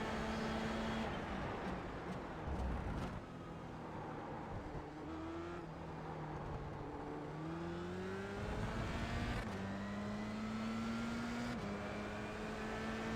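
Engine of a Formula 3 race car in a racing game at the Spa circuit: a close, continuous high whine that climbs and drops through the gears, with other cars' engines overlapping and passing.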